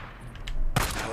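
A single sharp pistol shot rings out in the zombie video game Days Gone, loud and close after a quiet moment, followed by a short, dense burst of noise trailing off.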